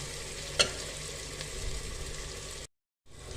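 Onions fry in a pan for a vegetable dish with okra, a steady soft sizzle with one brief clink near the start and a short cut to silence near the end.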